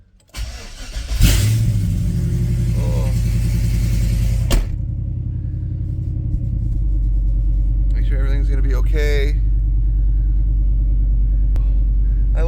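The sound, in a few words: car engine starting and running in enclosed garage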